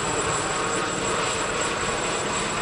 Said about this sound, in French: Le mardi, un hélicoptère est passé. C'était une gazelle,